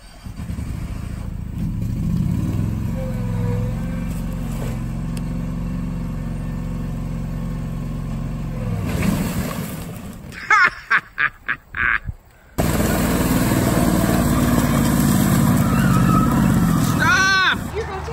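A tractor engine runs close by with a steady low drone for several seconds, then choppy bursts and shouting voices as it labours before the engine noise carries on loudly.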